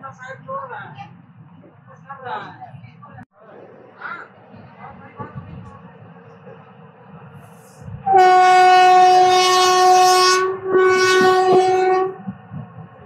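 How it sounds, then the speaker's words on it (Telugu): A passenger train on the Visakhapatnam–Koraput line via Rayagada rumbles along the tracks with low clattering as it slowly takes a curve at height, then a loud, sustained horn blares for several seconds; voices are heard early on. "మన ట్రైన్ అయితే మెల్లిగా టర్నింగ్ అయితే తీసుకుంటుంది"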